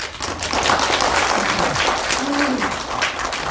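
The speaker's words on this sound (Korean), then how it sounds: "첫 번째 발제해 주신 이주원 부산고고학회장님께 다시 한번 큰 박수 부탁드립니다" An audience at a Korean academic symposium on Gaya history applauds after a lecture by the Busan archaeological society president: a steady, dense wash of clapping from a full room that lasts several seconds, with a voice faintly over it.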